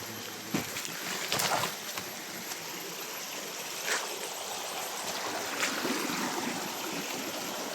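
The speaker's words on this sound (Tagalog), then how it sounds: "So na yung sapa guys." A creek flows steadily with a soft, continuous rushing and trickling close by, broken by a few faint knocks and splashes.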